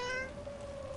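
A cat in Dragon Age: The Veilguard gives a single clear, drawn-out meow, loud and close, with a tonal wail that holds steady to the end.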